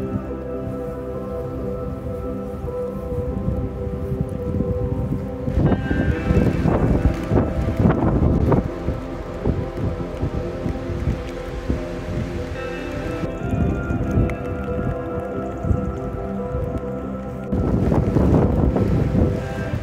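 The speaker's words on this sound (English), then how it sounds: "I can certainly see the rain pelting down outside though." Rain and strong wind pelt a tent during a wet, windy wild camp in Galloway Forest Park, a steady loud rush and patter with repeated heavier gusts that batter the fabric.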